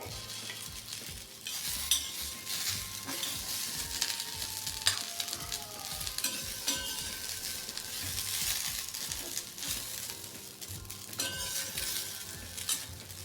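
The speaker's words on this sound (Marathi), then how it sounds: "गॅसचं फ्लेम जर जोरात ठेवलं तर भेंडी लवकर मऊ होते" Okra frying on a high flame while being stirred, a soft, steady sizzle with repeated light scrapes and clinks of a spatula against the pan throughout, no one speaking.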